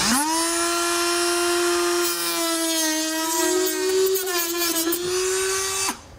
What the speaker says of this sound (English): Now to cut it, I'm going to use a Dremel tool.